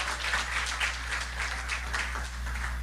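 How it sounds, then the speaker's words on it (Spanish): A Spanish-language church congregation gives the Lord a round of applause, a steady wash of many hands clapping at moderate volume, continuous throughout over a low background hum. "Dele un aplauso al Señor."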